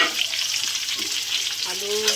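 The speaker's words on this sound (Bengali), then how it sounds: "পেঁয়াজ কুচি দিয়ে দিলাম।" Chopped onion hits a pan of frying potatoes and cumin seeds with a steady, close sizzle, and stirring scrapes run under the hiss throughout.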